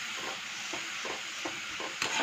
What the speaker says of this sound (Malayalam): അതിനകത്തേക്ക് ഇതേ പപ്പടം ഇട്ട് കൊടുക്കണേ കേട്ടോ.